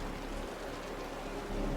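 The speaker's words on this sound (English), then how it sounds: "The rain's getting heavier." Steady, heavy rainfall in the video game Wuthering Waves pours continuously, a dense hiss with a faint low rumble beneath it.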